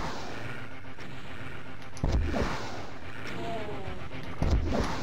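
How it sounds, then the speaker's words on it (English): Two rockets fired in Doom's Plutonia Experiment, on the Abattoire map, each a sudden heavy blast with a rumbling decay, a couple of seconds apart, under steady game ambience and someone talking. "So we'll fire a couple of rockets over there."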